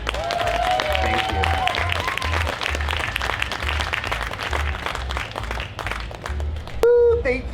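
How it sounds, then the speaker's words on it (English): An outdoor festival stage crowd at a storytelling event gives sustained applause with scattered cheers and whoops, while background music plays beneath and a voice calls out briefly near the end. "Can we get another continuous round of applause?"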